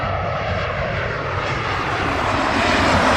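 An aircraft on approach to London Heathrow Airport, a loud, broad jet roar that swells slightly as it nears, filling the whole span with no talk.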